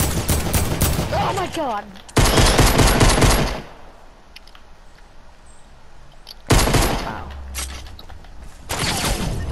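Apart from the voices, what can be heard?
gunfire in a video game gun game mode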